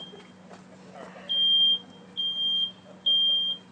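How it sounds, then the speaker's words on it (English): Smoke detector alarm sounding during a fire response, giving three long, loud, steady high beeps in a regular on-off pattern over a low background hum. "we had smoke detector activation about 24 seconds"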